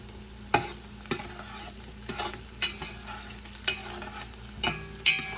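Onions and garlic cloves sizzle quietly in a pan while a utensil stirs and scrapes, with intermittent clacks roughly every half second to second.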